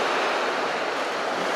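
Steady, loud wash of ocean surf breaking on a beach where sanderlings feed, a continuous broadband roar with some wind noise and no distinct gaps.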